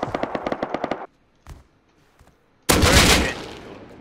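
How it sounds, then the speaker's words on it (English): Gunfire in the survival video game Rust: a rapid automatic burst, a pause with a couple of faint shots, then a loud, heavy blast of fire, all close and with no voices. "This guy shooting me in the back."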